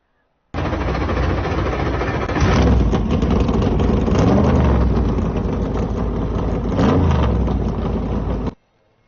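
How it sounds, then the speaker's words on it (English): A field of 358 modified race cars at Lernerville Speedway fire up together and idle, a loud dense rumble of many engines with blips and revs swelling and easing before it cuts off abruptly. "Drivers, start your engines!"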